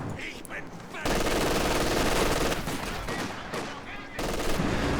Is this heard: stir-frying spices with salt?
no